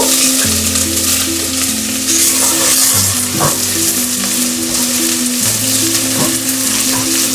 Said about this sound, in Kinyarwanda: Nashyizemo amavuta, noneho nshyizemo ibitunguru na poivro